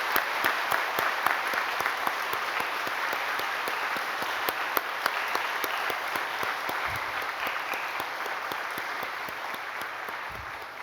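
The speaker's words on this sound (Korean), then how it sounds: "다시 한 박수로 이렇게 축하하겠습니다" A congregation applauds at a church service honouring a retiring pastor, sustained even clapping with sharp individual claps standing out, continuing for about ten seconds and tapering slightly at the end.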